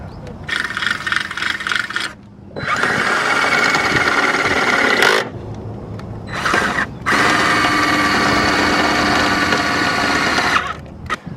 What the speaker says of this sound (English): now that we got the holes drilled